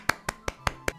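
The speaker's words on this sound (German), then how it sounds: "Applaus von allen." Theatre cast members clap in a sparse, even rhythm, five distinct claps about a fifth of a second apart, quiet and close, with no voices.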